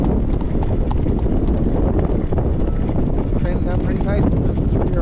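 Hooves of a three-year-old racehorse clip-clopping at a training session, a dense, steady patter under wind noise, with someone talking over it.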